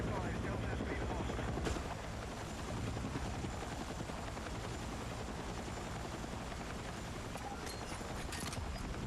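A helicopter in the video game Battlefield 6, a loud steady rotor drone throughout, with gunfire and game sound effects mixed in and a voice talking over it.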